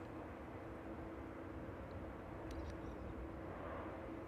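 A Ryanair airliner from Liverpool at East Midlands Airport in the evening, a faint, steady distant jet engine rumble that stays level throughout.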